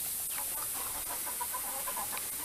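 Soft cooing and clucking calls from pigeons inside a loft, homing and fantail birds, heard as a steady chorus of low warbling notes over a hissy background with no talk.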